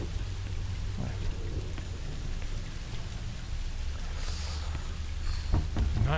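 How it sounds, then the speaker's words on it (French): Heavy, steady rain in the horror video game Song of Horror pours continuously with a dense hiss, and a low rumble underneath suggests thunder in the distance. "Il pleut des cordes, je ferais mieux d'y aller avant d'être trempé."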